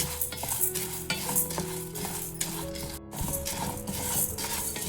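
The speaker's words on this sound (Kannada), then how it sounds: "ಘಮ್ ಅಂತ ವಾಸನೆ ಬರೋ ತನಕ ಇಲ್ಲಿ ಕಡಲೆಬೇಳೆನ ನಾವು ಹುರ್ಕೋಬೇಕು" Chana dal dry roasted without oil in a pan over a medium flame, stirred steadily with a spatula, giving a continuous scraping, rattling stir with faint sizzle throughout and no voices.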